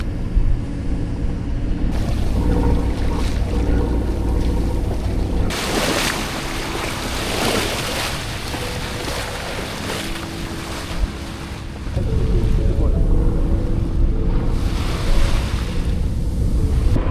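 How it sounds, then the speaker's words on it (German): Sailing boat motoring on a calm, glassy Mediterranean sea in light wind, a continuous engine drone under hissing water and wind noise on the microphone, loud and steady throughout. "weil wir motoren gerade, weil so wenig Wind hat"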